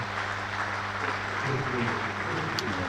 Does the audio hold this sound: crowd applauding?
yes